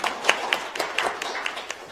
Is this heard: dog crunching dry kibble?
no